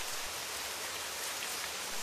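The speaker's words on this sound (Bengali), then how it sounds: "সব সময় বৃষ্টি হচ্ছিল" Steady, dense rainfall hisses evenly throughout without pause, a continuous wash of drops with no talk.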